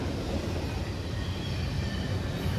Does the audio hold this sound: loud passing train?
yes